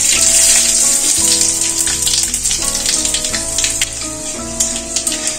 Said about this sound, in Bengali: ফোড়নগুলো সব ভাজা হয়ে গেছে।